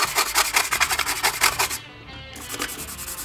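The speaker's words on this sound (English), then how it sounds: "I'm gonna take my brush, just gonna scrub it. You really wanna work the recessed areas" A brush scrubs solvent over a PMAG rifle magazine in quick, rhythmic rasping strokes close up, pausing briefly before a slower rub resumes.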